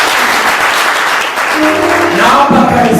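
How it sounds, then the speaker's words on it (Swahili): A church congregation breaks into loud, sustained applause, dense hand clapping close by with cheering voices rising and mixing in toward the end. "Tupigie makofi mazuri."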